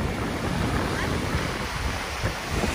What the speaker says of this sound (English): The waves are, yeah, the waves are too strong.